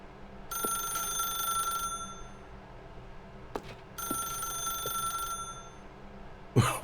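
A telephone rings in The Stanley Parable, two long bursts of electronic ringing separated by a short pause, loud and close with no voices over it.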